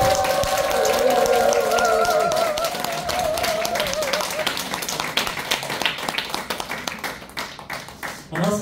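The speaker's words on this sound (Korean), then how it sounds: "뜨거운 박수 부탁드리겠습니다." An audience at a business presentation in Incheon gives a long round of clapping for the speaker, sharp claps tapering off over the seconds, with music and a voice talking underneath.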